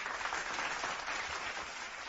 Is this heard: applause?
yes